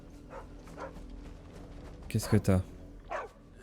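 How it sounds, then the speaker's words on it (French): A small dog in the video game Final Fantasy XVI lets out a quick burst of three or four sharp barks, with a French-speaking voice talking over the game sound. "Ok, c'est un petit chien."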